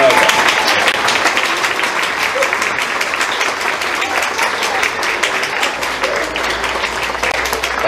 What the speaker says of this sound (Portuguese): Uma salva de palmas para a boneca.